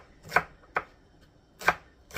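A knife chops celery leaves finely on a board in three crisp, close, separate cuts with short pauses between them, no talking.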